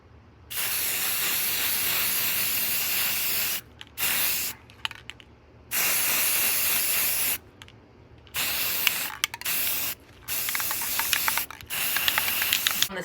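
Aerosol spray paint on outdoor cushions, a close, loud hiss in bursts of two or three seconds broken by brief pauses, with faint clicks of the nozzle and no talking.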